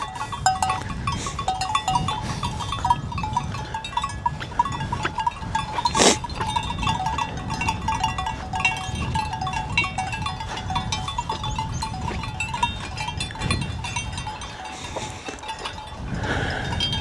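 A sheep on a hilltop in Norway makes soft, scattered livestock sounds against steady outdoor wind and rustle, with a brief sharp knock partway through and no speech.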